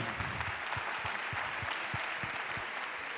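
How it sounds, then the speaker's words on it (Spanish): An audience at a municipalist gathering applauds warmly, a dense wash of clapping with a few rhythmic heavier claps punctuating it at a steady pace, fairly soft and distant. "Un fuerte aplauso para él."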